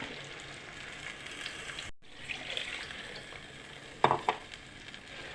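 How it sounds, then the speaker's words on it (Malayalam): A low, steady sizzle from a pan of fish curry as ground spice paste is added, cut off briefly before returning, with a louder crackling burst near the end. "നമുക്കിനി ഈ അരച്ച അരപ്പ് ഇതിലേക്ക് ഒഴിച്ചു കൊടുക്കാം"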